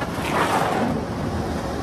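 An electric blower runs with a loud, broad rushing whoosh of air as it inflates a Vevor 12-inch by 25-foot flexible duct, close and continuous, no voices.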